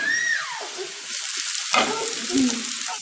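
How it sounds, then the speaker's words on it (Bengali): Eggplant frying in a pan, a short burst of sizzle with a few stirring scrapes and a brief tonal squeak at the start. "ডিম ছাড়া বেগুন ভাজি করছি তো"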